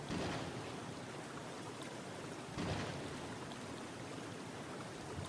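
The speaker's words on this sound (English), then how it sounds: "So it was just a terrible storm." A heavy storm in a Mabinogi cutscene near Belfast Island roars as steady broadband rain and wind, a loud continuous wash with a swell near the start and a rumbling surge midway, no voices.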